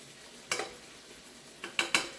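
Chicken pieces frying in a pan for chicken with creamy mushroom sauce, a low sizzle broken by several sharp clinks and scrapes as each piece is flipped, close and fairly quiet.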